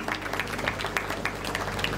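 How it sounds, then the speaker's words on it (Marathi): An audience at a spiritual discourse applauds to honour a speaker. Steady, evenly paced clapping continues throughout at moderate volume, with no talk over it. "सर्वांनी जोरदार टाळ्या वाजवून"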